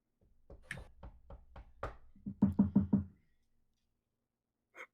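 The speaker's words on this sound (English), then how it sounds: "And then you hear a knocking at the door." Knocking at a door: a series of hollow knocks, first a slow uneven run of about eight taps, then four louder, quicker raps close together, followed by silence and one faint final knock.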